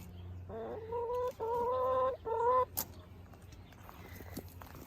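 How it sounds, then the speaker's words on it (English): Three drawn-out, nasal clucking calls from a nearby backyard chicken pecking at eggs, followed by quieter scratching and faint rustles in a calm outdoor garden setting. "Stupid chickens. They're pecking my eggs."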